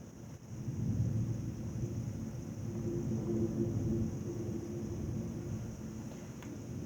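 Low, rolling thunder from a thunderstorm rumbles for several seconds, moderately loud and sustained, with faint rain hiss behind it.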